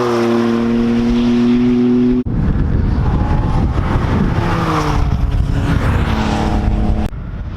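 A Mercedes C63 AMG is driven hard on a race track, its engine roaring loud and close as it revs up through the gears, with a brief cut at a gear change before pulling again.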